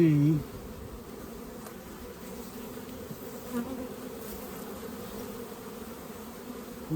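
Steady buzzing of many honeybees from an opened hive during a manual split, a continuous low drone filling the whole stretch with no talking.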